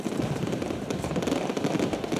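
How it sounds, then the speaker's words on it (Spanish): New Year fireworks during a street celebration crackle and pop in dense, irregular bursts, a continuous rattle of explosions at moderate distance with no clear talk. "O sea, los fuegos artificiales"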